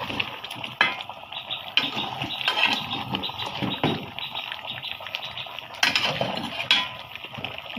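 Potatoes being fried and stirred in a pot for an Eid home meal, with steady clattering of a utensil against the pot, metallic scrapes and bubbling, louder knocks at intervals, close by.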